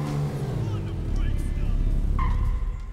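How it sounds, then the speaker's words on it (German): A car in Dead Rising 2 being driven into position, engine rumbling low and steady with a brief skid-like squeal near the end, a voice talking over it. "So, wir positionieren mal das Auto so."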